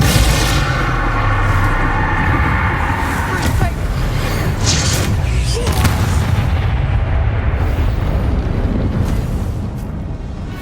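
Spell explosions in the Hogwarts Legacy video game, a loud, dense barrage of booms, bursts and crackling impacts rolling continuously, with voices casting spells over the din.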